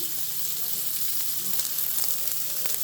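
Steak sears steadily in a cast iron pan, a dense continuous sizzle and crackle with a few sharper pops, close and loud with no talking.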